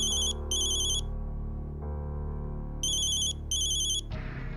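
A phone ringtone plays in repeated electronic bursts, two pairs of rings separated by a pause, over a steady background music bed.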